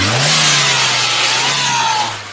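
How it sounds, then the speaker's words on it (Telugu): A Hyundai i20 Magna car engine revs as the throttle is opened, a loud close mid-range roar that rises in pitch and holds steady, with no talking. "i20 వెహికల్ యొక్క ఇంజన్ సౌండ్ కూడా మీరు చూసారు కదా"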